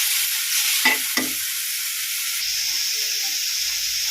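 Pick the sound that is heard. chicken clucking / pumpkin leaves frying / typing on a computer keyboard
pumpkin leaves frying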